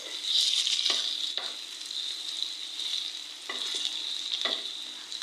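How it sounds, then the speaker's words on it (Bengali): Onions and green chilies frying in a karahi on the stove with goat meat, a loud continuous sizzle broken by several scraping stirs of the spatula, close and without talk. "চুলাই কড়াই বসাই দিছি দিয়ে তারপরে পেঁয়াজ কয়টা কাঁচামরিচ"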